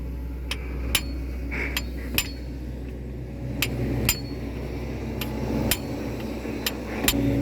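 Sharp metallic hammer strikes ring out at irregular intervals, about ten blows over a steady low hum, fairly close.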